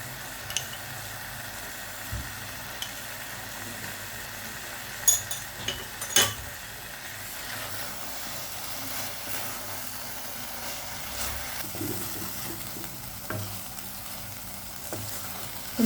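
Carrot halwa cooks in ghee in a kadai with a soft, steady sizzle, broken now and then by faint clinks and scrapes from stirring. It stays quiet throughout with no voices.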